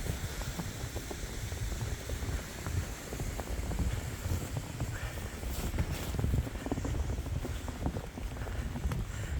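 Wind blowing into the face on a snowy trail along the Susquehanna River, a continuous rough buffeting rush over the microphone with gusty swells, steady and close, no talk.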